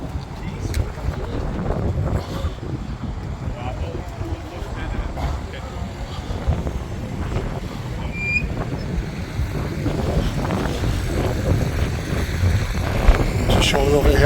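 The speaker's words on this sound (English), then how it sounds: "It's a little bit windy, so if it gets too windy" Wind gusting across the microphone outdoors on a windy day at a war weekend event at Blyth Battery in Northumberland, a continuous rough buffeting rumble under a person talking.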